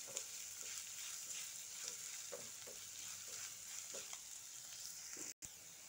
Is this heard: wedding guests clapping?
no